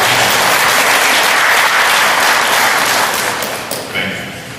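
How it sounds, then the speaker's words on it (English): Loud, sustained applause from a town hall meeting audience on disaster preparedness, dense clapping throughout that thins slightly toward the end. "I'd like to please give them a round of applause for their presence."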